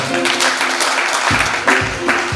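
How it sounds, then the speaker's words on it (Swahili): A church congregation in Mukuru kwa Reuben, Nairobi, applauds in a full, close burst of clapping, with rhythmic low thuds cutting in partway through. "Tunapigia watumishi wa Mungu makofi mazuri"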